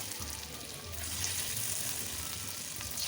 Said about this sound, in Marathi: तवा पूर्ण गरम करून झाल्यानंतर त्यावर तेल सोडायचं.